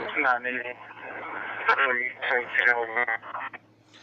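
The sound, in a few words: Whistler WS1080 scanner receiving distorted DMR radio transmission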